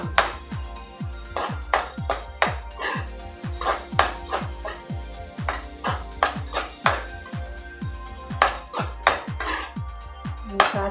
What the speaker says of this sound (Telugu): జీడిపప్పులు వేస్తున్నాను.